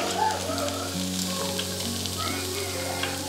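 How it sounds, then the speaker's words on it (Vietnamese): Fish frying in hot oil in a home kitchen, a steady close sizzle and crackle with bubbling spatter running throughout, no one talking over it. "Cái Phong chiên cá hay ghê không?"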